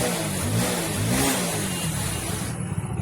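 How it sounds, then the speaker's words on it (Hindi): Hero Splendor BS6 motorcycle engine revving up and easing off close by, a steady mid-pitched drone with rising swells of RPM, alone without talk; the bike has a misfiring fault. "आरपीएम की आवाज भी अच्छी तरीके से आ रही है"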